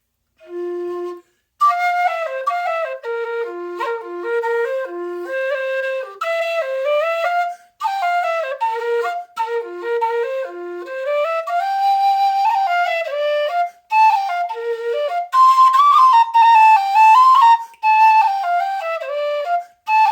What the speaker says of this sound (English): So it's really one of my nicer playing F whistles